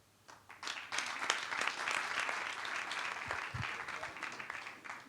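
Applause from an audience at a lively Rwandan district-themed comedy performance, a dense wash of clapping that swells within the first second and holds steady and loud throughout, with no voices on top.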